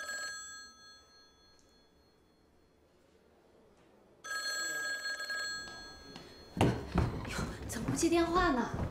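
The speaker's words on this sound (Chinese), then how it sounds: "接电话呢。" An indoor telephone bell rings in repeated bursts, faint at first and then louder and nearer, before people start talking over the end of the ringing.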